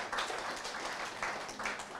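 Audience applause greets a guest joining a panel, a dense, steady patter of many hands clapping for about two seconds at moderate level.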